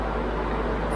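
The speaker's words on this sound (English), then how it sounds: "I've got the extractor on" An extractor fan runs in a paint spray booth where a jump bike frame is being custom painted, giving a steady, loud broadband whoosh with a low rumble and no breaks.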